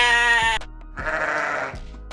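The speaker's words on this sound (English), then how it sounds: "A sheep." A sheep bleating in two loud, close calls, the first a bright, nasal tone and the second a rougher, wavering cry, with no other sounds around them.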